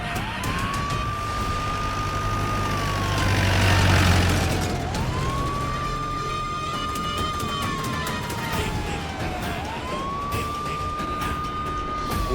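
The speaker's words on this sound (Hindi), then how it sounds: "ये तो पुलिस की सायरन की आवाज।" Police car siren wailing loudly and close, its tone rising and falling in long sweeps over a steady rumble of traffic.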